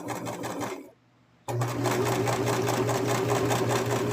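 A sewing machine stitches a small plush toy with wide stitches, a close steady mechanical whir that stops for about half a second and then resumes louder and continuous.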